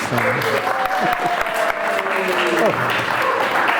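A humanist talk audience gives warm applause with some cheering, steady clapping throughout while a voice rises and falls over it.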